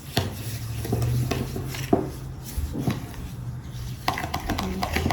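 Brown sugar being stirred in a mixing bowl, with scattered scrapes and light clinks of a utensil against the bowl over a steady low background hum, close and moderately loud.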